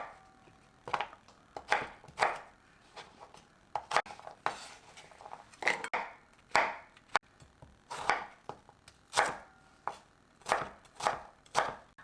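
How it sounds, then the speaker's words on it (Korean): A kitchen knife chops onion and zucchini on a cutting board for cheonggukjang soybean paste stew, with close, crisp, irregular chops in quick bursts and brief pauses between them. "그냥 찌개 안에 들어가게 편하게 이렇게 썰으시면 돼요"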